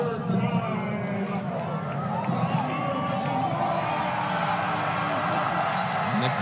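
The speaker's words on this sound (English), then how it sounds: "the crowd comes alive for t-shirt time" A stadium crowd at a college men's soccer match between Binghamton and Syracuse cheers and roars steadily throughout, a broad sustained wash of voices with a lift partway through, and a commentator talks over it.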